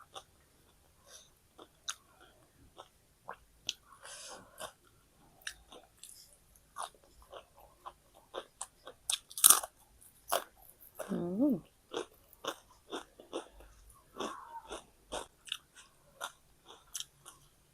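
Someone eats crispy fried white fish with a spicy long-bean salad, close and intimate, with scattered crunchy bites and wet chewing between pauses, plus a brief voice partway through.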